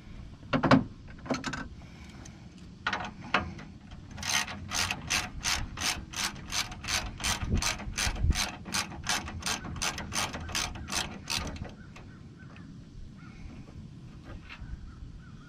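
A ratchet wrench breaks free a 9/16 bolt on the turbocharger intercooler of a 2007 Freightliner truck, giving a few separate clicks and then a long, steady run of loud, close ratcheting clicks that stops abruptly, with no talking.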